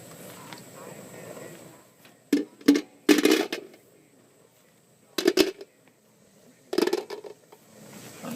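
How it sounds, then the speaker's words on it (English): Pieces of lead clatter into a metal melting pot on a heat source in a few separate bursts of sharp metallic clinks and rattles, with quiet background noise between drops. "Throw some lead in there."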